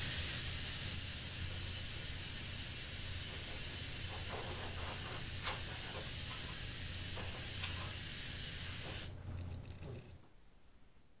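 An airbrush hisses steadily as it sprays gold paint along the back of a smallmouth bass fish replica. The loud, continuous spray carries on for about nine seconds and then cuts off, leaving near silence.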